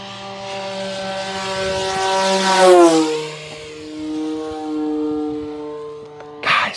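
An H-King Yak-11 radio-controlled model airplane, a 1450mm propeller warbird, roars past close by with its motor whining hard as it pulls out of a dive at full throttle, the pitch sliding down as it passes and fades away.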